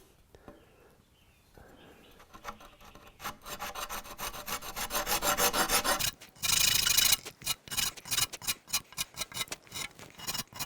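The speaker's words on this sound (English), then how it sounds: "I'm going to use my farrier's rasp to do that." A farrier's rasp files the wood of a two-piece takedown selfbow, starting with soft scrapes and building into loud rhythmic rasping strokes, with a brief dense burst midway and quick repeated strokes after.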